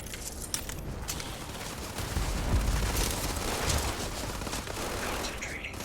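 Sustained gunfire in the video game Starfield, a dense, steady rattle of shots over several seconds with a brief spoken line.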